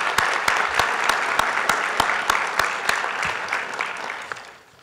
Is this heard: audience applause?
yes